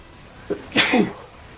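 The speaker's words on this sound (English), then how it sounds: "Need to sneeze." A single close human sneeze bursts out while someone plays Monster Hunter Generations Ultimate: a short sharp intake and then an explosive, breathy release, loud over a quiet room.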